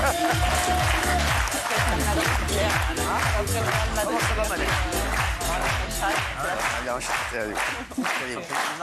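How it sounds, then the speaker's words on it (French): A French television studio audience claps to welcome politician Nadine Morano, a loud continuous burst of applause with music playing alongside and a voice faintly under it. "Applaudissements pour elle."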